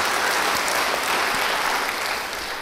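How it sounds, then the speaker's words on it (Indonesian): A church congregation claps together in sustained, dense applause that fills the room and tapers off slightly at the end. "Yang percaya beri tepuk tangan bagi dia."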